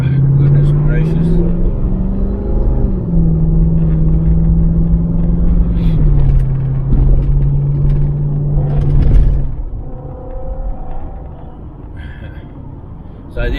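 A repaired Jeep WJ driving on an Australian road, its engine hum and tyre rumble steady and close from inside the cabin, with someone talking over it much of the time.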